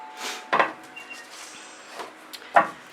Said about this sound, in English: I'm going to scrape off my spatula and take my colors as best I can.